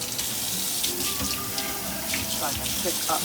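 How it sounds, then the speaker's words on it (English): Water runs steadily from a kitchen tap as hands are washed while seasoning turkey wings, a loud, close hiss of flow with splashes, while a person speaks briefly over it. "Just have to wash my hands"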